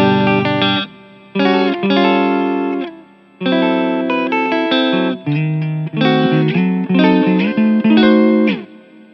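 Clean electric guitar played in chords and short phrases through a Line 6 POD Go clean amp channel, with a light reverb tail ringing after each strum; no voices.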